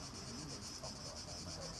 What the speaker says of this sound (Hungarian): Persze, kabócák.